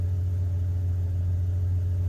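A van engine idling on a cold day after running a while, a steady close low hum with no change in speed.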